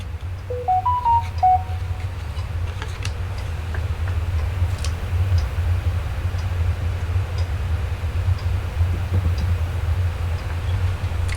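A mobile phone rings with a short rising melodic tone near the start, heard over a steady low hum and faint ticking, fairly quiet against the background.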